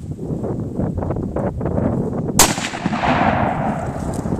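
A single sharp, loud test shot from a .243 rifle cracks outdoors midway through, then rolls off into a lingering echo against steady wind noise on the microphone.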